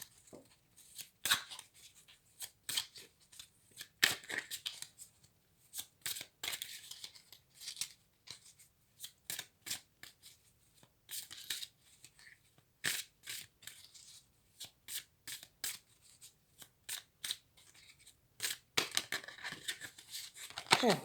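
A deck of tarot cards being shuffled and cut by hand, quiet crisp riffles and slaps coming in irregular bursts separated by near-silent pauses, close and intimate.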